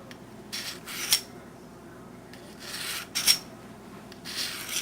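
A kitchen knife is drawn across a sharpener in rhythmic rasping strokes, each a brief scraping swipe with a faint metallic ring, paired strokes repeating at a moderate pace, quiet and close, without speech.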